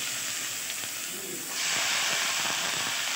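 Salted, mashed bottle gourd tipped into hot mustard oil with fried onion and green chilli, setting off a sudden loud hissing sizzle that jumps up midway and stays strong and steady.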